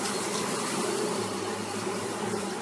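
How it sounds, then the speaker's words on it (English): A package of Russian honey bees hums with a dense, steady buzzing that fills the whole stretch at close range, with no talking over it. "I'm going to show you guys one way to install a package of bees."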